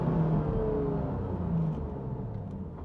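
A Porsche GT4 on semi-slick tyres drives a track, its engine a continuous low, throaty drone that holds fairly steady and eases slightly toward the end, with no one talking.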